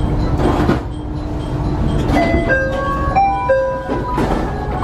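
A train rolls into Tomari terminal station with rumbling wheels and a chorus of rising and falling brake squeals as it slows to a stop, fairly close.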